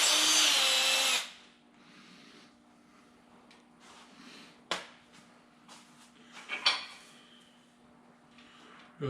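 A power drill whines loudly for about a second while drilling a hole in an LS V8 engine block, then stops, followed by scattered clicks, clanks and handling noises of metal tools.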